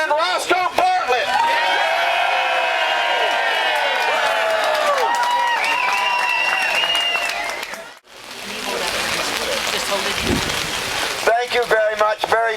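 A crowd at a Tea Party rally in Frederick welcomes a congressman with a dense burst of clapping and cheering lasting several seconds, following a spoken introduction and giving way to his voice.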